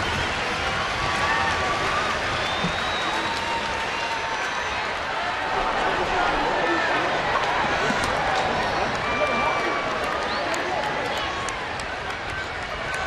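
Steady crowd applause at a San Diego–San Francisco baseball game, greeting pinch hitter Pagan: a broad, even wash of clapping and murmur that holds at the same level throughout, with a commentator's voice running over it.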